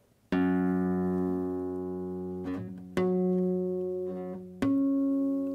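Plucked strings ring with rich sustained harmonics, struck three times in a row with each note decaying slowly and resonating alone, no voices present.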